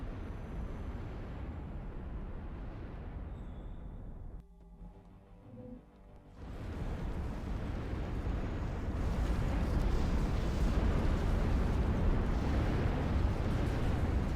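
Artillery fire and explosions in the strategy game Ashes of the Singularity blend into a continuous low, rumbling roar that dips briefly, then swells louder and steadier.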